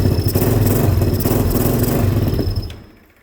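A four-wheeler's engine idles close by in a steady, throbbing rumble with fast, even pulses, then cuts out abruptly near the end and leaves a fading tail.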